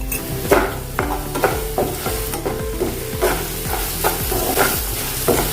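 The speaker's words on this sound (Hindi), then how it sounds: "थोड़ा देर जीरे को भी भून लेंगे।" Cumin and semolina are dry-roasted in a pan for a savoury breakfast dish, with a soft sizzle under repeated scraping strokes of a spoon stirring against the metal in a steady rhythm.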